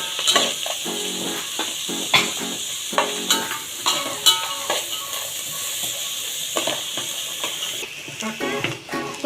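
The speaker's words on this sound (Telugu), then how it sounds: "కొంచెం అల్లం వెల్లుల్లి పేస్ట్ కూడా వేయాలి. ఇది కూడా కొంచెం మగ్గిన దాకా మనం తిప్పుకోవాలి." Ginger garlic paste being stirred in a pan while cooking veg biryani: a steady sizzle runs underneath repeated scraping clinks of a spoon against metal, close and fairly loud, with no talking.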